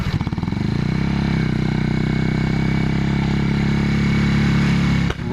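A 1981 Yamaha XS400 motorcycle engine drones loud and steady at close range during a test ride, holding an even pitch before cutting off abruptly near the end.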